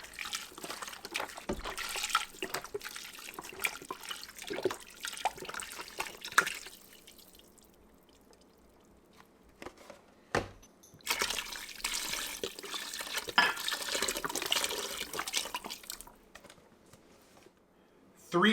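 Six cups of beef broth poured into a Ninja Foodi XL pot for beef barley soup make a steady, close splashing and trickling in two long stretches with a quiet pause between, and no talk over it.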